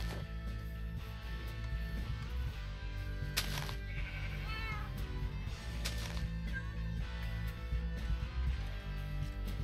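A cat meows a couple of times in the Minecraft modpack Modern Skyblock 3, its wavering cries rising briefly over a dense, steady bed of game music and background noise.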